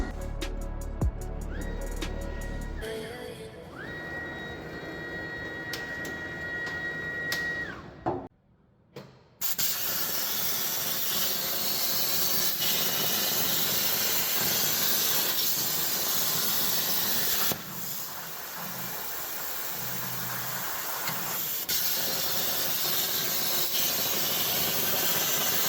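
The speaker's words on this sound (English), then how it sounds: "we'll just quickly show you in real time how long it takes to cut out 2 of the gussets" A Swift CNC machine cuts out gussets for a Datsun rebuild, a steady loud hissing, rushing noise that runs for a long stretch after a brief whine and a short pause at the start.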